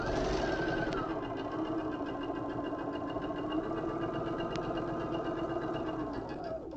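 An electric sewing machine stitches down a fold in fabric for a hanging car organiser, giving a continuous, steady mechanical whir at close range with a couple of faint clicks.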